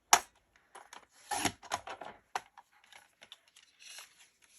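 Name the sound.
cutting card stock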